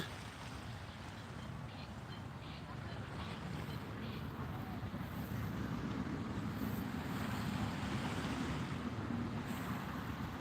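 Ocean waves washing onto a beach at sunset in strong wind, a steady broad roar with gusty wind buffeting the microphone, continuous and moderately loud with no voices.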